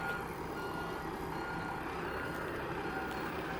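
A bus idles at a stop on Rottnest Island, giving a steady close engine rumble with a repeating reversing beep over it. No one speaks.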